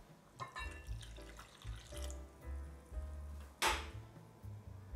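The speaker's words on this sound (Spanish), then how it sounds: "Agregamos los ingredientes líquidos, 100 ml de agua" Water, about 100 ml, poured into a well in flour for Turkish gozleme dough, a short faint trickle and splash over low kitchen background noise with occasional clinks.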